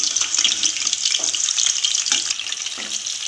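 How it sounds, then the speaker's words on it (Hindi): Chicken kofta sizzles and crackles steadily in a frying pan, a close, bright hiss of oil running unbroken with small pops and occasional stirring. "तो अब मैं इसे दूसरे साइड भी इसी तरह फ्राई कर लूँगी।"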